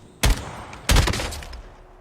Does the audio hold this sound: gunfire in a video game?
yes